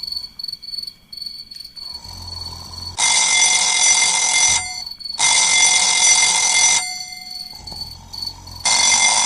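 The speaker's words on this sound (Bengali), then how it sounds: "অ্যালার্ম দিয়ে এত জোরে দেওয়ার কি দরকার" Loud electronic alarm clock ringing in repeated long bursts of shrill beeping, each lasting a couple of seconds with short gaps between, close and piercing with no voices.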